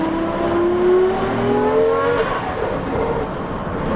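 A Nissan Skyline GT-R R32 engine revs up sharply to about 5,000 to 5,500 rpm, pitch climbing for about two seconds before dropping off, loud and close, then settling into a rough idle.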